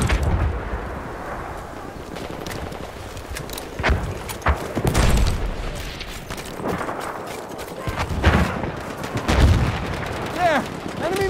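Gunfire crackles in Battlefield 1 Conquest gameplay, with bursts of shots and heavy bangs coming in separate clusters over a busy battlefield din, with some game voice lines mixed in.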